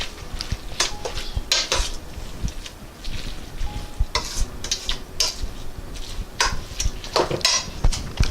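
Coleslaw being mixed in a bowl, a steady run of wet stirring and scraping with sharp clinks of a utensil against the bowl, close and fairly loud, with no talk.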